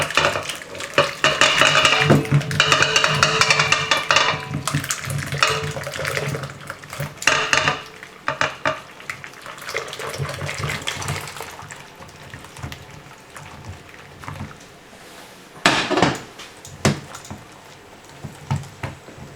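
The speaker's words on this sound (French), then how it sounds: "On peut verser sur les jaunes, tout en mélangeant." Hot liquid pours onto egg yolks in a bowl while a whisk clinks and scrapes rapidly against the sides, the stirring continuing in bursts with occasional utensil knocks.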